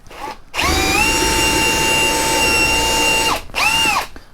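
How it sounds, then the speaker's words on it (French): A Bosch GSR 18V-150C cordless drill bores into a piece of wood with a loud, steady high whine. One long run of about three seconds is followed by a brief pause and a second, shorter burst. "On va commencer par percer un morceau de bois, frérot."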